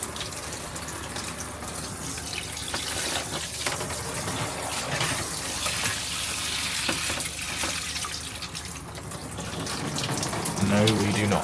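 Water runs steadily from a motorhome shower in a continuous hiss and splash, with a few faint knocks and movements alongside.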